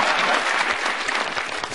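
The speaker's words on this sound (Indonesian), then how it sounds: "Saya merindukan tepuk tangan yang seperti ini." A stand-up comedy audience at a Cak Lontong show fills the room with dense, steady applause, a continuous wash of many hands clapping without pause and with no voices on top.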